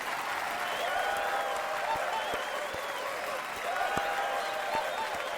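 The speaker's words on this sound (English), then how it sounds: "Let's get another round of applause" A crowd claps and cheers continuously, with scattered whoops rising over sustained applause.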